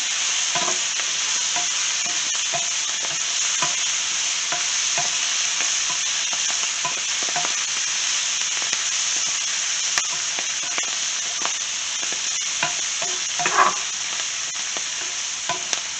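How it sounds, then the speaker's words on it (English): Spinach sizzles and fries in a hot pan coated with bacon grease while being stirred and moved around, a steady loud hiss with soft scraping clicks throughout and no talking. "And it says to cook this spinach for 2 minutes also, so we'll just keep moving it around here."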